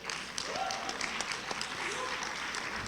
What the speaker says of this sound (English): feel free to give yourself a round of applause